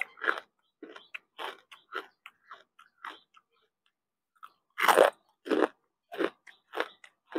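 Loud, close crunchy chewing and biting of spicy Thai-Lao papaya salad, with irregular bursts of crisp crunches separated by short pauses.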